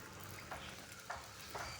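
Pappada vada dropping one at a time into hot oil, frying with a steady close sizzle broken by three brief louder bursts as each piece hits the oil.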